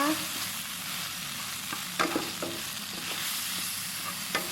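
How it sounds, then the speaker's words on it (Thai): Pork belly frying in a pan for Thai fried rice, a close, dense sizzle with occasional sharp clicks and scrapes of a spatula. "เดี๋ยวรอให้หมูสามชั้นของเราสุกก่อนนะคะ"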